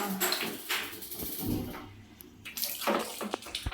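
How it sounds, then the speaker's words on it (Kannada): Water splashes and trickles as a baby is bathed at home, with continuous sloshing and pouring close by, rising and falling in short bursts. "ಈಗ ಸ್ನಾನ ಮಾಡಿಸ್ಬಿಡೋಣ"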